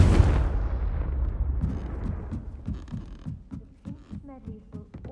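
The Confringo fire spell in Hogwarts Legacy bursts into a deep, booming explosion at the start, then rumbles and crackles away over several seconds while a voice speaks.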